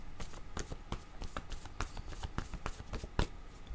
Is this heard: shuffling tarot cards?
yes